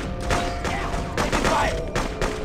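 Gunfire in the video game Freedom Fighters, a rapid machine-gun fusillade of repeated sharp bursts across a busy battle mix, loud and continuous with faint voices underneath.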